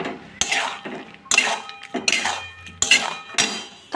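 Mango pickle being mixed with spices in a pot, with clattering scrapes and clinks of a spoon against the metal in four or five bursts, close and fairly quiet, with no talking.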